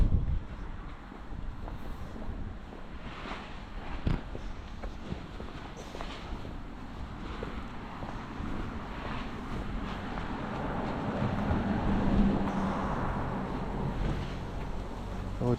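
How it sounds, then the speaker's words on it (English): Strong wind gusting outdoors, a steady broad rush with buffeting against the microphone and faint footsteps, around an old barn-find site. "It's getting very windy now."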